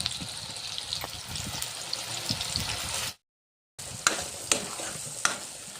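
Onion-tomato masala frying in a pan, a steady close sizzle with scrapes and stirring clicks, a brief drop to silence, then more stirring taps over the sizzle.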